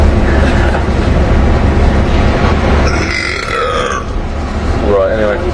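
A train runs close alongside a moving car, its steady rumble blending with road and engine noise, while people talk and laugh inside the car.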